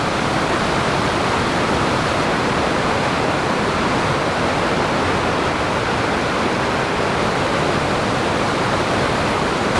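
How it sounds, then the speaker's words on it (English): Heavy rushing water roars steadily, a dense, powerful waterfall in Barrington Tops National Park, swollen after heavy rain, pouring hard with no pauses. "This river's raging and that waterfall's coming down hard."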